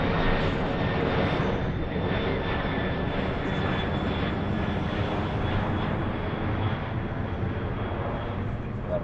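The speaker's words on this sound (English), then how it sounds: "That is UPS. The 767." A UPS Boeing 767 passes right overhead at Philadelphia airport, its engines a loud, steady, broadband roar that holds without letting up.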